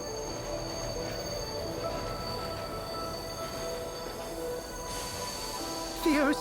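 A train rumbles steadily in an audio drama scene, with a continuous low rolling drone, faint high tonal whines, and a sharp metallic wheel squeal rising near the end.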